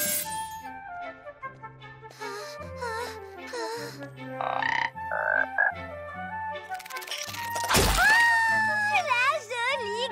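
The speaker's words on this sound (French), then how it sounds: "La jolie grenouille" A cartoon frog croaks in an animated fairy-tale scene, with several croaking calls mixed among music and lively character voices, ending in a sharp splashy burst and warbling sounds.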